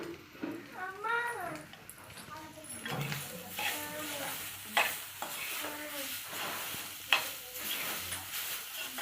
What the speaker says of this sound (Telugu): నేతిలోని కొబ్బరి కూరని మనం ఫ్రై చేసుకోవాలండి